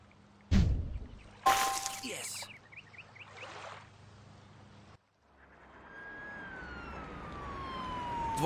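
An emergency siren wails in the distance, with a sharp crash and other scattered effects before it and a long falling tone as it fades.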